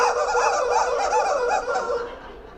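Squeezed rubber chicken toys squawk together in a loud, wavering chorus of honking cries at a conference symposium, sustained for about two seconds before tapering off.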